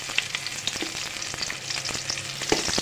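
Food stirs and fries in hot oil in a pan on a stove, giving a steady close sizzle broken by frequent scraping strokes of a spoon.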